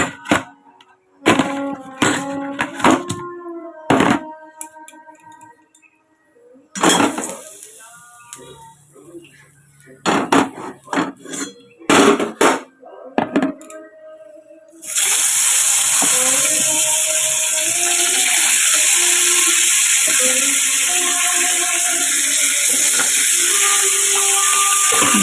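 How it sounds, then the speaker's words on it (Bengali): A fish dropped into hot oil in a pan gives a loud, steady, close hissing sizzle that fills the second half, after a stretch of sparse clattering kitchen knocks and clicks. "মাছটা এবার ভেজে নিই।"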